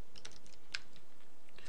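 Someone typing C++ code on a computer keyboard, giving a short burst of quick, light key clicks with one sharper keystroke in the middle, heard close and alone.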